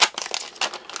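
A packet of dried diced mango being opened, a quick burst of close crinkling and tearing plastic followed by a few sharper rustles, alone with no voices.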